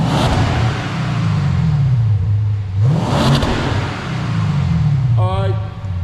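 A Lexus RC-F with a valved stainless steel exhaust revs with its valves closed, the engine rising and falling in two loud blips over a steady idle rumble, with brief talk nearby.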